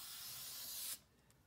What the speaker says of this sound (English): Turn it over to the back side and use sticky spray